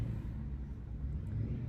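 Cars pass on a nearby road outside a house, a soft low rumble of traffic that swells gently and stays in the background with no one talking.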